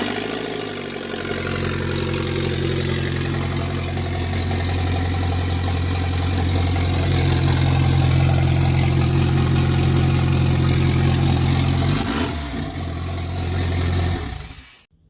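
A 1987 Dodge CSX fitted with a swapped 2.4 engine starts for the first time, catching quickly and settling into a loud, rough, steady idle close by, then shutting off near the end.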